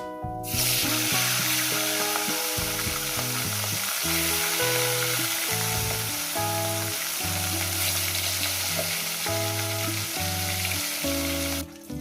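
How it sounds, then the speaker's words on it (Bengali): Fish pieces fry in hot oil for a vegetable fish curry, with a dense, continuous sizzle that stays loud and steady throughout, with light stirring and scraping on top. "এই মাছগুলো ভাজা হয়ে গেছে"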